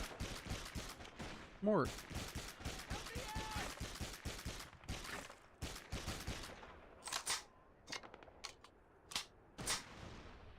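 Enemy gunfire in Call of Duty 2: Big Red One on PS2, a run of sharp gunshot bursts and rattling fire throughout, mixed with a shouted voice and scattered game noise.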